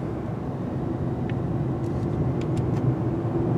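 A 2022 Chevy Silverado pickup with a 2.7L turbo engine cruises on a busy highway, giving a steady, continuous road and engine rumble with tire noise throughout, no talking.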